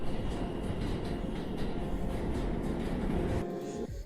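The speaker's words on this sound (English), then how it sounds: "that's a pretty high train sound" A train rumbles past with a steady, heavy rolling roar and rhythmic wheel clatter, fairly loud, before the sound cuts off abruptly near the end.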